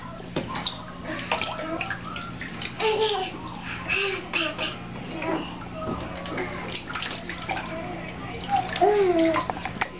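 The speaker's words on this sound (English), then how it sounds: "Splashy splashes." A small child splashes water in a bathtub at bedtime, with irregular sloshes and drips under constant babbling, squeals and giggles, plus an adult voice nearby.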